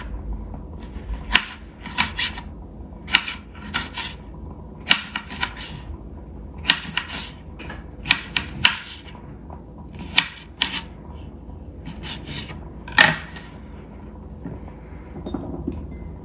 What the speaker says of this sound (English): I'm just going to dice these up.